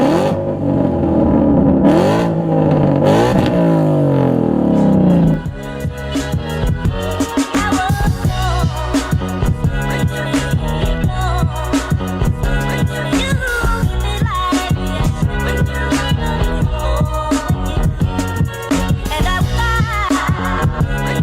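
A Ford Mustang S197 5.0 with a ghost cam tune drives, its engine rising in pitch as it revs for the first few seconds, then dropping under loud, rhythmic music that fills the rest.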